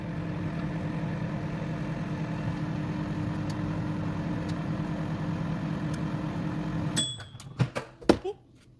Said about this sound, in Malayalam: മൈക്രോവേവിലോട്ട് വെക്കാൻ പോകണം.